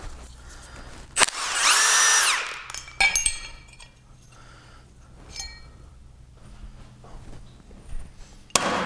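Power tool, likely an impact driver or drill, spinning out cylinder head bolts on a 1931 Plymouth engine during teardown: one loud whirring burst of about a second, then scattered metallic clinks and tool handling, with a sharp knock at the end.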